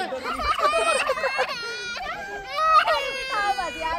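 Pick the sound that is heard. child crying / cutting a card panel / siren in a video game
child crying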